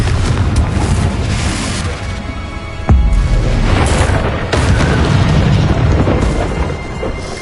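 Confringo blasting spells explode in Hogwarts Legacy, a steady barrage of loud booming blasts with rumbling, crackling debris. One sharp detonation cuts through near the three-second mark over a dense, continuous roar.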